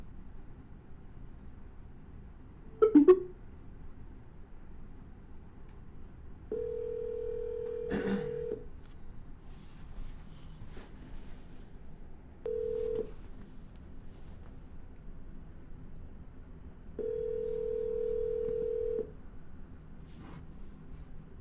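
Touch-tone keypad beeps of a number being dialed, followed by several steady ringback tones with pauses between them on an outgoing call, clear and close with no talking over them.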